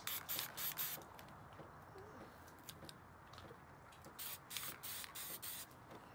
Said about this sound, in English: I angle it, and then I spray up here